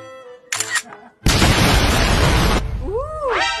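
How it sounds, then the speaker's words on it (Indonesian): After a brief voice, a loud, sudden burst of noise like a cartoonish explosion effect roars for over a second, followed by a swooping tonal sound. "Meledak."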